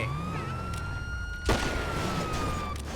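Police car siren in the video game GTA V, a loud wailing tone sweeping up and down over engine noise, with a sharp crash partway through.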